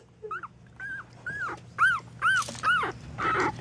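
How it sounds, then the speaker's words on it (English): A mother dog near her litter of dark red puppies gives a run of short, high yips and whining barks, about seven in quick succession, fairly close and growing louder. "Dee Dee, stop barking."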